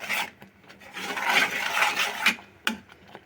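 Tapioca flour dough being stirred and broken up by hand for bubble tea, giving a steady gritty scraping and rubbing with a few sharper knocks near the end, close and fairly loud with no talk.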